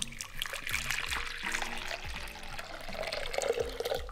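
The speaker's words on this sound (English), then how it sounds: "And then we're going to add in 480 ml or 2 cups of warm water." Warm water poured from a container into the bowl of a stand mixer holding instant yeast, a continuous gurgling trickle with splashy bubbling, close and moderately loud for about four seconds.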